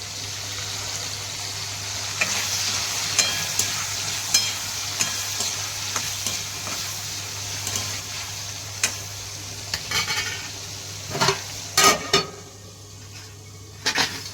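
Chopped tomatoes fry in a hot pan during home cooking, giving a soft continuous sizzle broken by scattered clinks and scrapes of a spoon stirring against the pan, growing busier toward the end.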